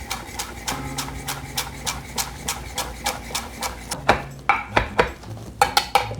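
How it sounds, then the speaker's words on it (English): Knife rough-chopping a handful of fresh cilantro on a cutting board for pico de gallo, a steady run of sharp close taps at a brisk, even pace with a few louder, more spaced strikes near the end. "And we're just going to rough chop that."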